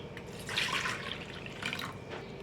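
Cooking water from boiled raw green mangoes pours off into a separate vessel, a close, steady watery splashing and trickling that swells in two bursts before easing.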